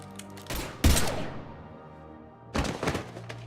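Gunfire in the Mass Effect 3 game, a pair of heavy booming shot bursts separated by a short pause, loud and close with ringing tails.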